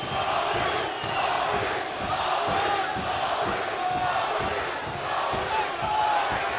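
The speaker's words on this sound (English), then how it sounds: "And the crowd getting behind Smith right now." At a UFC heavyweight championship fight, an arena crowd keeps up a loud, rhythmic chant with pulsing beats, a sustained roar of many voices and faint commentary beneath.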